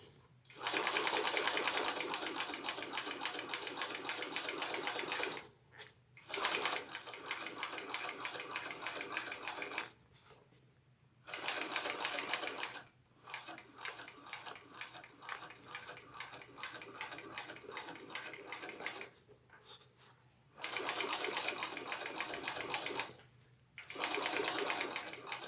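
A sewing machine stitching a Brunella bag, running in repeated sustained bursts of rapid, even needle chatter, each several seconds long and separated by short pauses, close and fairly quiet.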